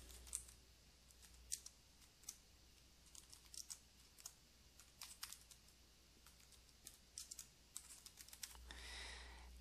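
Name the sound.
typing on a computer keyboard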